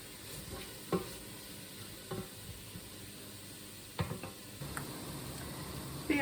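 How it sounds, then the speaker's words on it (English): Chicken pieces frying in a pan with onion added, a faint steady sizzle broken by a few soft scrapes and stirring knocks, quiet and close with no voices. "chicken's been frying for about 3 minutes and has lost the pinkness now, and I'm going to put in the onion"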